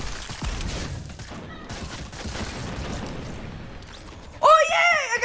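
Submachine gun fire in the video game Fortnite, heard as rapid bursts of shots in a busy, moderately loud game mix, ending in a sharp, louder burst of effects near the close.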